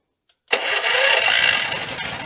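A used farm generator engine kicks over after a brief click and catches at once, settling into a loud, steady rattling run close by with no talk.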